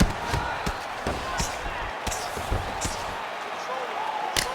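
Punches land in a UFC fight simulation video game during ground and pound, a string of sharp thuds at irregular intervals over a steady crowd murmur.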